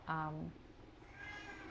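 A pet cat gives one loud, close meow at the start, followed by quieter indoor background and a faint higher whine later.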